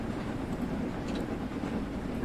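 A steam locomotive hauling carriages in the video game Train Sim World 2, a steady low rumble and rolling rail noise at moderate level with no breaks.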